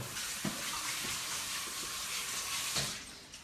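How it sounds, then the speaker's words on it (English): Kitchen tap water runs steadily over hands being rinsed, a continuous close hiss of flowing water with a few soft splashes and knocks. "let me just rinse my hands 1 minute"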